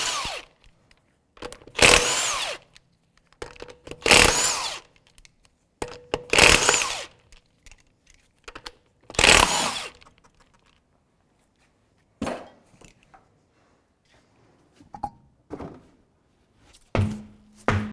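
Power tool spinning off wheel lug nuts with an 18 mm socket on a 2005-2009 Subaru Outback, in four loud, separate bursts that each last about a second, followed by quieter clanks and handling noises.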